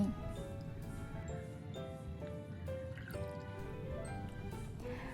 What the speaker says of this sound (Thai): หรือจะเอาน้ำฉีดเบาๆก็ได้นะคะ ก็ล้างแบบนี้